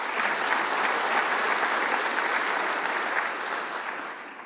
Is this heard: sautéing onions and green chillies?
no